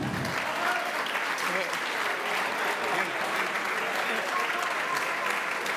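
Crowd at a freestyle battle rap event applauds a rapper, a steady, moderately distant roar of clapping and cheering with voices mixed into the noise throughout.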